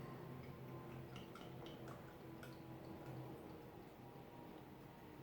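Gampertbräu Förster-Pils beer pouring into a glass, a steady foamy liquid rush with faint dripping ticks, close and continuous.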